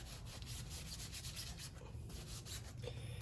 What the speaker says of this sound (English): before sliding this axle in, I'm gonna wipe it down really good, make sure there's no dirt and or debris on there